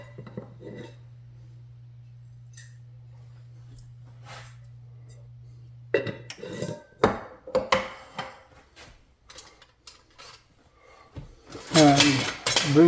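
Pork pieces go into a cooking pot for Goan pork bafat. After a steady low hum, close metallic clatter and knocks of the pot and utensils rise and fall, loudest near the end.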